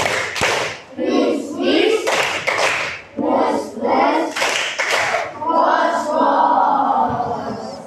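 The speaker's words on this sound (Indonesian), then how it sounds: "Lagi yang semangat, tepuk melambai." A class of children claps hands along to the tepuk melambai chant, rhythmic claps mixed into energetic group chanting close by, with a voice leading throughout.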